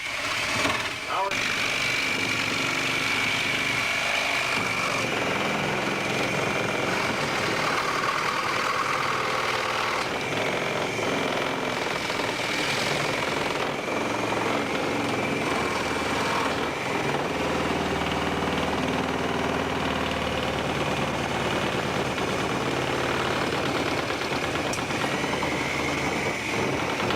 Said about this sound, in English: This is a Sawzall.